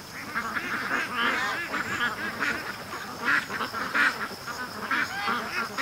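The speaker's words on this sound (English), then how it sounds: "One lone Peking duck." A lone Peking duck near a lake gives repeated quacks, a steady series of nasal honking calls at moderate loudness, close to the listener, with no speech over them.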